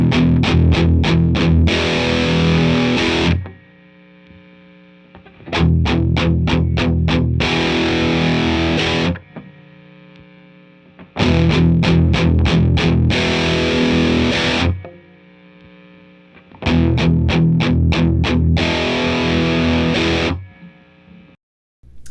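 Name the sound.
electric guitar with BOSS LM-2 limiter switched on and off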